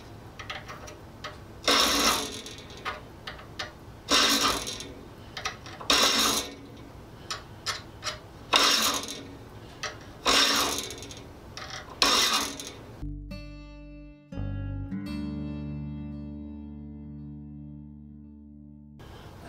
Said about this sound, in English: I have to be careful not to hit the alternate bevel teeth when I'm using that file on there.